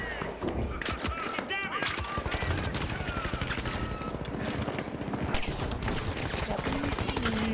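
Turret gunfire in The Finals during a competitive club-war match, a dense, continuous stream of rapid shots with other game noise and a possible voice underneath.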